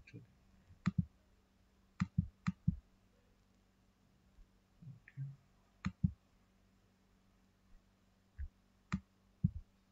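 Computer mouse clicks, single and double, scattered irregularly and close up, with a low hum underneath and a voice talking faintly in between.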